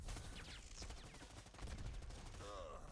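Gunfire in a Predator video game as a fireteam opens up on the hunter: dense, continuous rapid shots from several weapons, packed with sharp cracks and busy game noise and no clear pauses.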